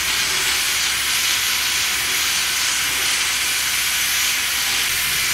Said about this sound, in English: Number 18 will now be departing with another train of passengers back to Maitland.